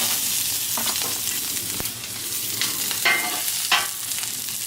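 Peppers sizzle loudly in olive oil on a hot Blackstone griddle, a dense close hiss with a few brief scrapes and pops.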